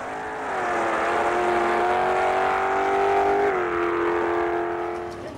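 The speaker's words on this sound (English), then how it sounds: "here comes Gene Morey and his Chevrolet-powered Volkswagen" Chevrolet-powered Volkswagen gasser drag racing at ATCO Dragway, its V8 holding a loud, sustained high-revving roar that shifts down in pitch partway through, then fades slightly as it pulls away.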